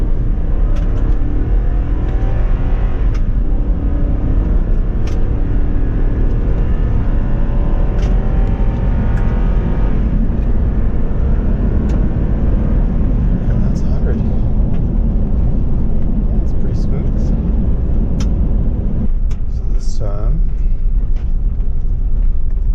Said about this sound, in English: I'm going to start out in first gear, and we'll show you a little acceleration.